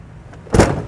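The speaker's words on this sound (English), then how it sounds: "I just went ahead and slammed the door on the wiring." The door of a 2012 Toyota RAV4 shuts firmly on trailer wiring with a single dull thud, close and fairly loud, followed by a brief fading rumble.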